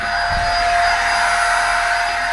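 A vacuum cleaner set up outdoors sucks ash out of a fireplace, roaring loudly and steadily with a high, airy motor whine that holds constant, up close and alone.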